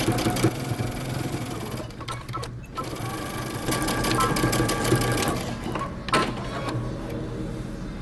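A sewing machine back stitching a bomber jacket runs loud and close in a steady mechanical whir, with brief slowdowns and restarts as the stitching reverses direction.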